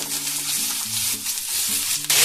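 Onions and potatoes fry in a pan on a gas stove, producing a steady close sizzle with stirring scrapes and a sharper burst of hiss at the end.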